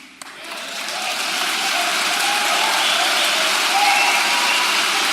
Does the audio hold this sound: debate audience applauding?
yes